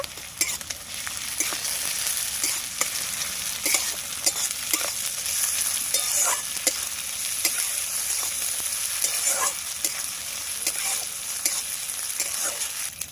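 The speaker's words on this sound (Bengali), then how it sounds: "আদা রসুনটা দিয়ে ভালোভাবে নাড়িয়ে নেব" Onion with ginger-garlic paste sizzles steadily in a hot pan while a spoon scrapes and stirs in frequent strokes, close and fairly loud, with no voices.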